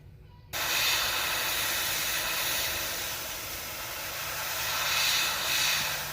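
An airbrush sprays paint onto a fish painting of a red-breasted sunfish, giving a steady, close airy hiss that starts abruptly and runs unbroken, swelling slightly at times.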